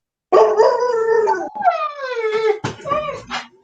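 A dog howls in long, wavering drawn-out tones close to the mic, several rising and falling howls in a row, loud and alone without talk over it.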